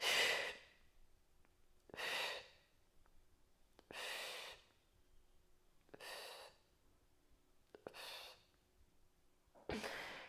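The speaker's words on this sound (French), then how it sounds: "vous m'avez entendu inspirer par palier" Staged inhalations during a breathing exercise, heard as six separate breathy intakes spaced about two seconds apart, close and fairly quiet, with no talking.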